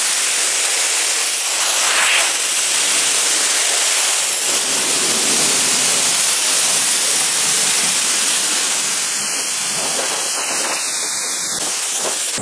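A powerful air blower roars steadily and loudly at close range, drying a car's wet body after a spray-on wet coating has been applied, with a constant broadband hiss and no speech.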